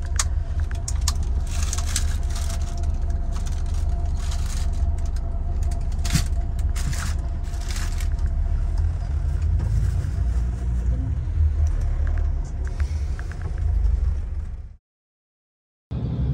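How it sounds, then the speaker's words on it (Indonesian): Sleeper bus on the Jember–Bogor route cruises along a toll road, a steady low engine and road rumble heard from inside the cabin with occasional rattles, cutting to silence near the end. "Bus sudah masuk tol lagi"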